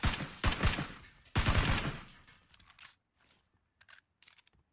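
Gunshots in PlayerUnknown's Battlegrounds: two loud, close bursts of rapid fire, each followed by fading echo, then a few faint, scattered distant shots.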